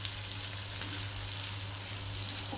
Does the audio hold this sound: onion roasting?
yes